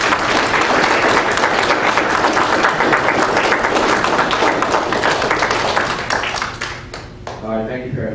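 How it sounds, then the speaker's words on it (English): Parents in the audience give a round of applause for Cub Scouts at an Arrow of Light ceremony, loud continuous clapping that tapers off near the end, where a voice briefly speaks. "Audience, round of applause."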